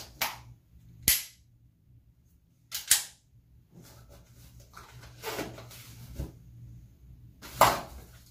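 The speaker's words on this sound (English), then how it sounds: "you have to practice and practice your dry fire." Handgun dry fire practice: a series of sharp, isolated clicks and snaps spaced irregularly over several seconds, close and fairly quiet, with no talking.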